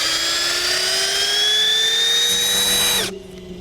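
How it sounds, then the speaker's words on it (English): A drill spins a Hyundai Kona electric motor with failed, noisy bearings, a high, steady whine and faint grinding, then cuts off abruptly near the end, leaving a quiet hum. "So we'll just stick our drill in this little plug in the end."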